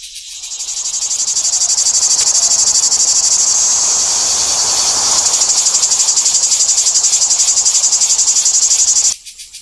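A cicada sings loudly and close by, a continuous high buzzing drone with a fast pulsing rhythm that cuts off abruptly near the end.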